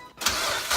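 A 2000 Mazdaspeed Protege fitted with a Garrett GT25/40R turbo cranks briefly, then catches and settles into a loud, close engine roar.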